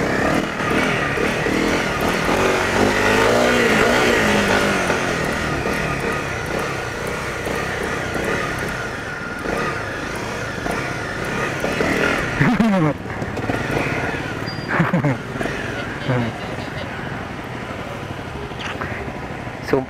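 A Honda CRF 250 Rally motorcycle engine drones loudly and steadily while being ridden, revving and shifting pitch throughout, with wind and road noise mixed in.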